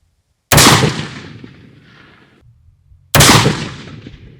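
A mini rifle fires two loud, sharp gunshots about two and a half seconds apart during a group test with 50-grain ammunition, each crack ringing out and fading in a long echo.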